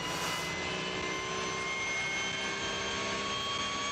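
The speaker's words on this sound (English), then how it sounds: "Now that is the sound of a Porsche." A Porsche GT3 Cup race car at the Nürburgring 24 Hours roars past as a sustained, high-pitched engine wail, loud and continuous, heard from trackside without commentary.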